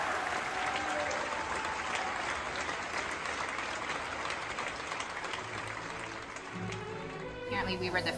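An audience applauds after a Pittsburgh Symphony Orchestra concert on a European tour, sustained clapping heard faintly from a distance with voices talking over it.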